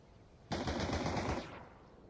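A short rapid burst of gunfire during a Counter-Strike pistol round sounds for about a second, fairly quiet, then fades into low background noise.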